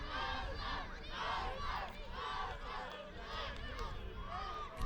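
Young fans in the stands at a league final cheer and chant in rhythmic waves, a crowd of voices rising and falling in repeated bursts.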